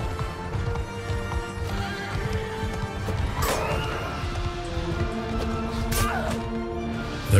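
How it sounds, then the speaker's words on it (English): Horses in Mount & Blade 2: Bannerlord neigh loudly amid steady clip-clop of hooves and battle clatter, with a couple of sharp whinnies cutting through the continuous galloping noise. "Oh, there's a horse."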